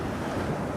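Rough, choppy waves rolling in at Bantham Beach, a dense steady wash of surf mixed with wind buffeting the microphone, loud and continuous over a brief moment.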